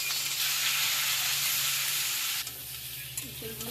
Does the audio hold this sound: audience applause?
no